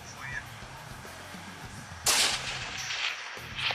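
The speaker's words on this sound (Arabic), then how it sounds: "شوف مع مسافة بعيدة، شوف شوف رصاصة ضربة مباشرة" Rifle shot during a mountain goat hunt in rugged mountains: a sudden sharp crack about two seconds in, cutting through steady outdoor background and trailing off into a lingering rumble, with no talk over it.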